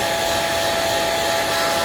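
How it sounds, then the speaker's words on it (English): A hair dryer blowing hot air onto a painted heat-reactive pumpkin, a steady, even whooshing hum with a faint whine, constant and close with no talking. "so I have a hairdryer, that's what you can hear"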